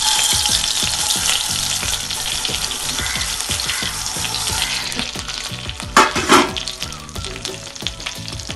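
Basmati rice fries in butter in a pan, giving a continuous close sizzle with scraping stir strokes and a couple of louder clattering moments near the end.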